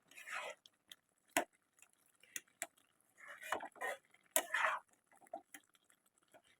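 Carrot and chhena mixture being stirred in a pan for carrot sandesh, making soft intermittent scraping and clinking of a utensil against the pan, with brief sharp ticks between quieter stretches.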